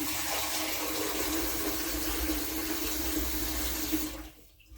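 Water gushes steadily from a tap into a sink to soak something, a loud, close rushing flow that cuts off near the end.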